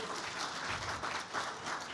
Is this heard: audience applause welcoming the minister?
yes